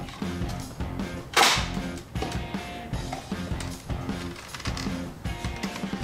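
A Nerf toy rocket launcher fires outdoors toward a fence, giving one sharp burst of air in the middle, with a busy backdrop of other sounds before and after.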